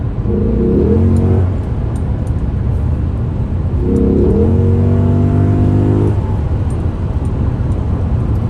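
A Lexus SC430 V8 revs hard twice with a throttle controller fitted, each blip rising sharply then falling back to a loud, steady idle rumble close by.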